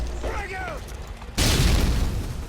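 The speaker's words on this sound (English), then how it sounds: "A triple precision airstrike to end the game" Triple precision airstrike explosions in a multiplayer shooter game: a sudden loud booming burst cuts in midway and rumbles on, after a stretch of quieter game noise and tonal effects.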